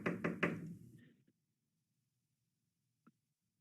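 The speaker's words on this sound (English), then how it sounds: "Go up and knock on that door." Door knock done as a radio drama sound effect: a quick run of three firm knocks, close and fairly loud, fading out, then one faint tap follows after a pause.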